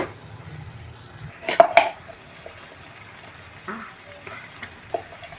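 Gongura leaves go into a pan of curry and are stirred, with a burst of sizzling and clattering of a utensil against the pan, then quieter bubbling and occasional scrapes.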